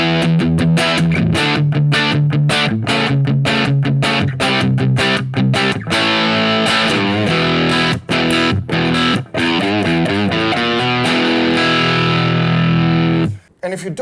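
Heavily distorted electric guitar plays loud, chugging riffs with sustained chords, continuous and up close, ending with a brief cutoff.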